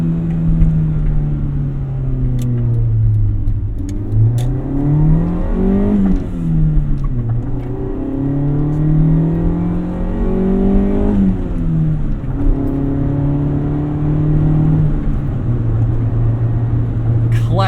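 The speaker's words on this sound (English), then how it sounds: "Classic Honda sound." A 1988 Honda CRX Si engine revs repeatedly under acceleration, pitch climbing and dropping through gear changes in a loud, close, peaky wail heard from inside the car, with a voice over parts of it.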